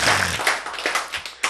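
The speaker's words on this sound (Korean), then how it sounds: "박수!" A church congregation claps during a sermon, a loud burst of applause that settles into scattered, uneven hand claps and taps from a nearby crowd.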